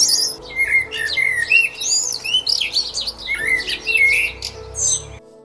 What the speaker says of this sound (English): This little blackbird, and it makes the most annoying sound.